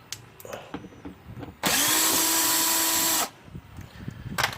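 A power drill spins out headlight screws on a 2008 Infiniti QX56, one loud steady whir lasting over a second, framed by faint handling clicks before and after.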